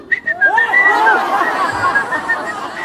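A voice imitates whistling during ablution in a humorous Islamic sermon, giving a short, wavering melodic whistle close up, with crowd chatter and murmuring around it.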